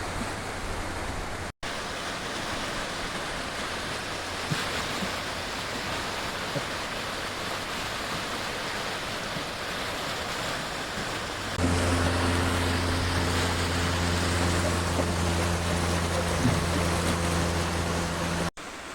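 Steady broadband rushing of a swollen creek in Colorado, loud and continuous, thickening with a deeper hum in the second half.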